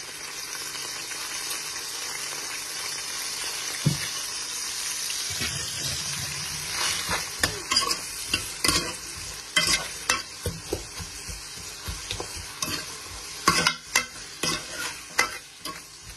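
Onions and spices sizzle in a pan, with steady frying hiss under busy stirring. A utensil scrapes and clatters against the pan in bursts that grow livelier partway through.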